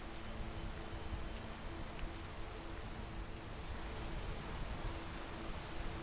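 Rain in Elden Ring, a steady, even hiss of falling rain with a low rumbling bed, continuous and moderately quiet, with no voices.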